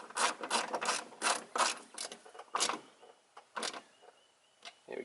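A ratchet tightens down an anodized billet engine bay part on an Isuzu MU-X or D-Max with a 4JJ1 engine, giving close clicking strokes in uneven bursts with short pauses between.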